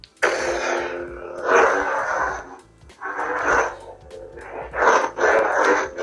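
Bursts of electronic, creature-like warbles and chirps in the style of the droid BD-1, a lightsaber sound font from a nearby speaker, coming in several short phrases with brief pauses between.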